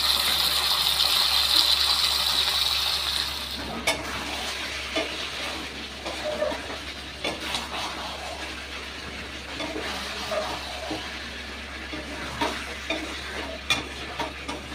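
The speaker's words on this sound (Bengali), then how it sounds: "শুধু এই যে মাংসটা এটাই কষাচ্ছি" Chicken pieces being sautéed in a pan with a utensil, a steady sizzle with repeated scraping and stirring strokes and occasional clinks, close and fairly loud, with no talk.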